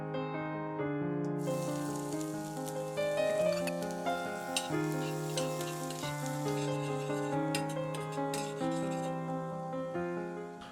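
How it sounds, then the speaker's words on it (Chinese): Finely chopped shallots sizzle steadily in melted butter in a small pan over medium heat. Prominent melodic music plays over the frying throughout. "紧接着我们用小煎盘中火放入黄油，融化后呢，加入之前切碎的红葱头"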